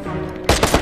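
Shotgun blasts in the video game Watch Dogs: after a steady game-sound bed, a loud broadband burst hits, followed by a couple of quick repeated shots in close succession.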